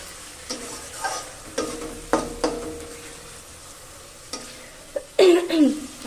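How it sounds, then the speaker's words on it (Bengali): Tomato with salt, turmeric and chilli powder being sautéed in a pan, heard as intermittent stirring scrapes and soft sizzling, with a louder burst of sizzle and scraping near the end; no talking. "নুন হলুদ লঙ্কার গুঁড়ো টমেটো, এগুলোকে এবার সব একসাথে ভালো করে কষিয়ে নেবো"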